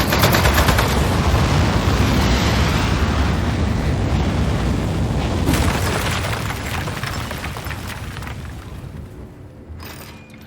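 Gunfire in the Desk Job video game rattles as a loud, dense, continuous barrage with heavy booming rumble that gradually fades toward the end.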